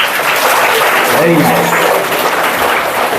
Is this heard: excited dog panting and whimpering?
no